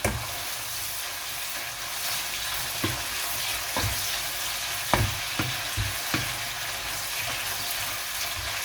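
Pre-cooked, pre-cut chicken fries in a pan with a continuous close sizzle, broken by occasional sharp spatula taps and stirring scrapes, no one speaking.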